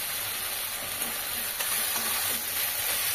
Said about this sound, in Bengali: এবার এক এক করে দেখো মাছগুলো এখানে দিয়ে দিচ্ছি।